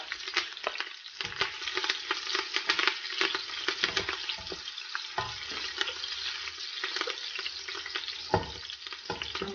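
Chopped scallions fry in a pot as the base for okra soup, giving a close, continuous crackling sizzle broken by frequent scraping stirs of a spoon.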